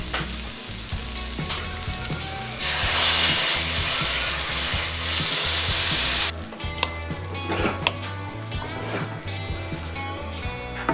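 Coconut milk poured into a pot of sizzling vegetable curry, the loud hiss and bubbling surging for several seconds before settling to a quieter simmer, close by with no talk.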